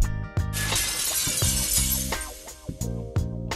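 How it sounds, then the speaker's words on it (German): Plates dropped in a car-test challenge shatter on impact, with several sharp crashes and ringing clinks of breaking crockery following one another quickly and loudly, with no talk. "Also ein Teller hat überlebt, der ist runtergefallen, hat überlebt."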